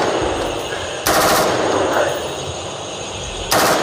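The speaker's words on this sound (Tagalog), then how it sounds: "Grabe, ang lakas ng putok." Gunfire from a mountain clash between soldiers and bandits: two loud bursts of rapid automatic fire crack out over steady outdoor background noise, the first lasting about half a second and the second arriving near the end.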